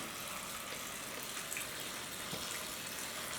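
Water runs steadily from an IAW-1000 water ionizer set to its acidic SP setting as a container fills, a constant broadband hiss and splash with no talk over it.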